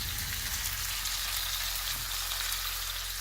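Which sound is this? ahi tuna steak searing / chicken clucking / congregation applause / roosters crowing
ahi tuna steak searing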